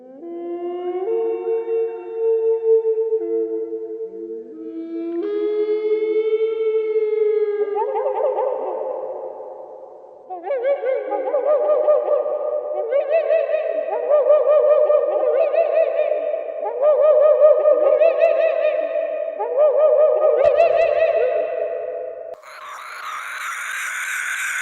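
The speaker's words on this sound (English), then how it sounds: "So get ready to hear some Spino noises." A series of deep, echoing reconstructed Spinosaurus calls, droning and warbling in long separate bellows that rise in pitch, ending on a higher shriek.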